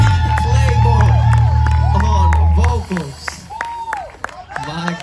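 A crowd at a Juneteenth celebration in Boston claps and cheers loudly over a low rumbling backdrop, then the noise drops off midway, leaving scattered claps and voices.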